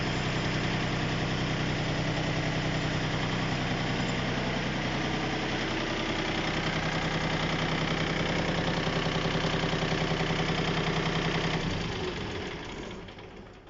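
A 4WD mini tractor with power steering idles steadily, its engine a continuous mid-low rumble with a rotary tiller running alongside, holding even throughout before tapering off near the end.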